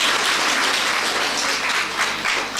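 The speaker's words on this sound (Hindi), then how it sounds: "वेरी गुड, ताली बजा दो सब" An audience at a spiritual yoga talk claps together in a dense, continuous burst of applause that holds loud and steady from start to finish, with no voices over it.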